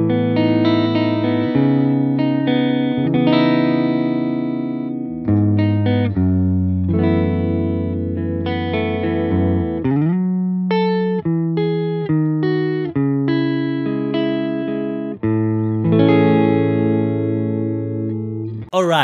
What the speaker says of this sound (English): This is the capture of a 1979 Fender Super Reverb, and the impulse response I'm using for this tone is made after a Vox AC30 Brian May Signature amp